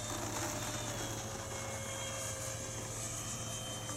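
An 80mm electric ducted fan radio-controlled F-86 Sabre model jet flies a lap at an airfield, giving a steady, continuous whine and rush that holds at an even level throughout with no voices.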